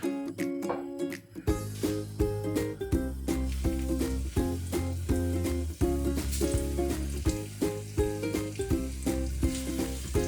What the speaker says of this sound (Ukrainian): Так, смажимо нашу рибку.